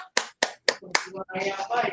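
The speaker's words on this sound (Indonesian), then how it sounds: "Kita beri tepuk tangan untuk Mas Purno" A few sharp, evenly spaced claps in a classroom for a pupil, four distinct hand strikes close by, followed by a brief burst of mixed clapping and murmured voices.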